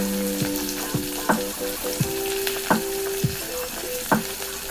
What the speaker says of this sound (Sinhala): මේ ටික මේ විදියට තෙලේ බැදෙන්න දීලා